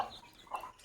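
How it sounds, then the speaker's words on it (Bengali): A couple of faint, short chirps from chicken chicks, quiet and close, with no talking. "মুরগির বাচ্চা নিয়ে এসেছি"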